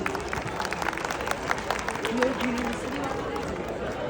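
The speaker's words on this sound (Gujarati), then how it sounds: "નારી શક્તિ માટે આપ સૌની ખૂબ ખૂબ તાળીઓ અમે ઈચ્છીએ છીએ" Steady crowd applause after a Kutchi garba performance, a dense wash of many hands clapping at a constant level with faint voices mixed in.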